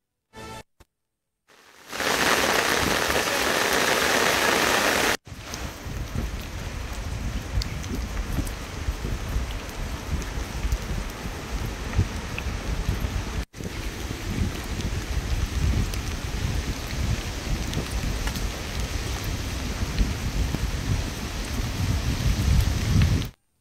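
Heavy rain pours steadily during a downpour over Telangana, a dense, continuous roar of water on surfaces that starts after a brief moment of quiet and carries on loud and unbroken.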